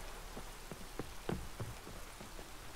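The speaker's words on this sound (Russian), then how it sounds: "Дождик." Soft steady rain falls in a city in The Witcher 3, a quiet wash of hiss with a few scattered drop-like taps, faint and distant.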